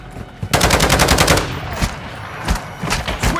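Loud video game gunfire: a sustained rapid automatic burst, then a few separate single shots after a short pause.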